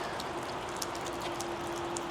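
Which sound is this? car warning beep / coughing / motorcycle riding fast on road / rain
rain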